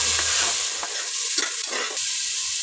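Tomatoes fry in a pan with mustard seeds and ginger-garlic paste, a close, steady sizzle broken by several scraping stirs of a spoon.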